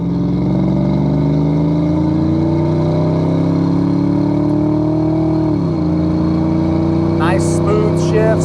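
A 1990 Ford Mustang LX 5.0 with an automatic transmission pulls from a downshift into low, its engine note climbing steadily with a loud, close drone, then a brief drop and renewed rise as it shifts.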